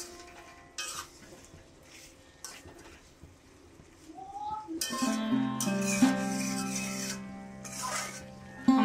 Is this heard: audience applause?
no